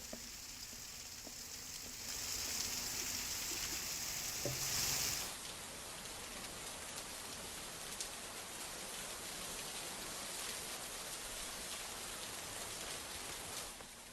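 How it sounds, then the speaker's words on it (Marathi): Heavy monsoon rain falling in Nashik, a steady soft hiss of downpour heard at moderate distance, briefly joined by a brighter high-pitched tone early on, with no talking. "नाशिकच्या त्र्यंबकेश्वर भागात सुरू असलेल्या मुसळधार पावसानं"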